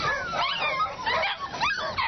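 Dozens of tiny rescue puppies packed floor to ceiling in a transport vehicle, whimpering and yipping in a dense, overlapping chorus of high-pitched cries close by.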